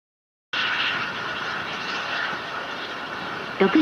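An H2A rocket roars in flight after liftoff, a dense, steady broadband rumble that cuts in abruptly and holds at even loudness, heard from a distance with a brief faint sound at the end.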